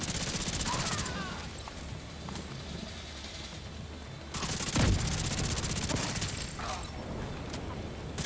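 Steady bursts of gunfire from a shooter game, The Division 2, roll on continuously at moderate level, layered with mechanical clatter and game ambience, with a louder thump near the middle.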